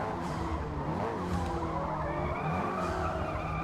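Race car in Forza Motorsport (2023) on Xbox Series X braking hard and skidding, a continuous loud engine roar with tire squeal running through the whole stretch, no talking.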